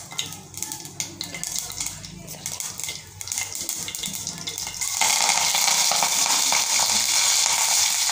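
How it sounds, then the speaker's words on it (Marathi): Curry leaves dropped into hot oil with crackling mustard seeds and cumin, a scattered popping and clatter that swells into a loud, steady sizzle. "मोहरी छान तडतडल्यावर कढीपत्ता टाकायचा"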